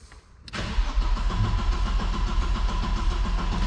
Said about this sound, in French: ça tourne bien, ça fait un beau bruit de démarreur